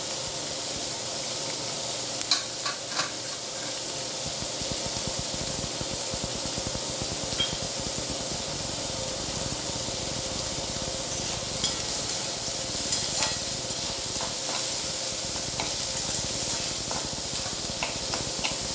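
Garlic sizzling in hot oil, a steady bright hiss of frying with occasional stirring clinks, continuous and close.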